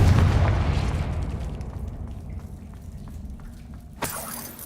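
Confringo fire spell explosion in the Hogwarts Legacy video game: a loud, deep boom whose rumbling tail decays steadily over several seconds, followed by a sharp crack near the end.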